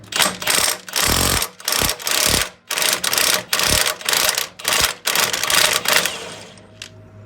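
An impact wrench with a 32mm socket spins counterclockwise to loosen the flywheel nut on an Arctic Cat Wildcat X 1000 engine, hammering in about ten loud, rapid rattling bursts separated by short pauses.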